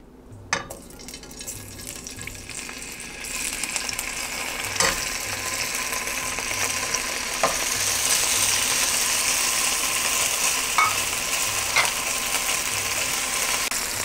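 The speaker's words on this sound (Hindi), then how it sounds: "इसी ढंग से हम इसको चारों तरफ से हल्का सा गुलाबी होने तक फ्राई कर लेंगे।" Paneer shallow frying in oil in a non-stick pan on medium gas, giving a continuous soft sizzle that grows slightly louder, with occasional scraping clicks from stirring.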